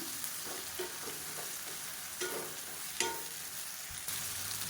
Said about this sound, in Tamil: இந்த வாழைக்காய் அப்படியே சேர்த்துக்கலாம் சேர்த்துட்டு இந்த எண்ணெயில் வந்து நல்லா ரோஸ்ட் ஆக்கிக்கலாம்